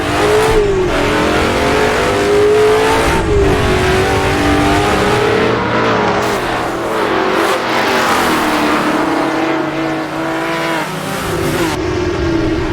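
Race car engine in a racing game on a road course with a Porsche ahead, loud sustained revving whose pitch rises and falls through the gears and corners, continuous and up close.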